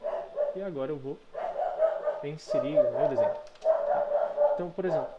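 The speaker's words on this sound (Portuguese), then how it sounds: "Desculpem o latido do meu cachorro." A pet dog barks in a home while a person speaks continuously; a few short, sharp yips and barks cut through the talking at irregular moments.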